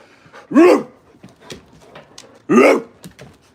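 A man imitates a dog with his voice, giving two loud, harsh bark-like yelps about two seconds apart, with quiet breathy noises and small clicks in between.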